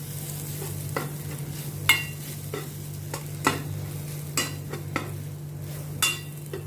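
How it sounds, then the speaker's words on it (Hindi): Mashed boiled potato being mixed with corn and onion, heard as soft, irregular scraping and tapping strokes of a utensil against a pan over a low steady hum, quiet and close, no speech. "इसको भी अच्छी तरह से मैं कॉर्न और प्याज के साथ में मिक्स करती हूँ।"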